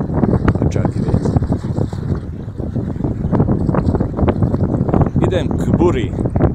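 Strong wind blowing at sea near moored boats, a loud continuous buffeting rush with gusty surges across the whole stretch.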